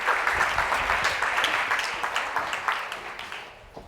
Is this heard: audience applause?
yes